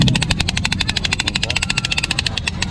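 A toy gun, sold as a souvenir at Rizal's house, is spun and gives off a rapid, steady rattle of loud clicking, with voices in the background.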